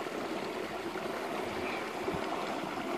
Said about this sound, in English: have a look at this river